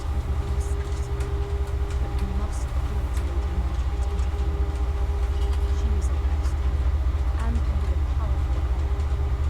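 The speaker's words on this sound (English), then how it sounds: "Blasted train." Steady low rumble of a train in the Game of Thrones: A Telltale Games Series video game, a continuous rolling drone with a faint rhythmic clatter and light high ticks throughout.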